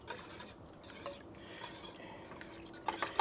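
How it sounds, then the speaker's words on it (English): A whisk scrapes and clinks through ground beef in a metal pot for Skyline-style chili sauce, a close, busy stirring rattle with a few louder metallic taps near the end. "we're going to just whisk this"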